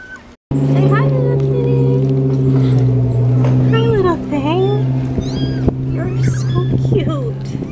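Small, skinny cat in Puerto Vallarta meowing several times at close range, with steady background hum and people talking over it.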